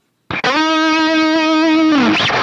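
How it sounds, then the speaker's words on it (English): Electric guitar lead tone through a Line 6 Helix with Legacy hall reverb, a single sustained distorted note held for about a second and a half, then bending away into a short reverberant tail, loud and alone. "I use the hall reverb from the Legacy set because I wanted something a little bit bigger"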